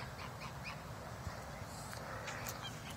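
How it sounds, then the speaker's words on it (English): Several ducks quack and honk at a distance in Memorial Park, Uvalde, in early November, over a steady outdoor background hum, with calls scattered irregularly. "Got some ducks over here."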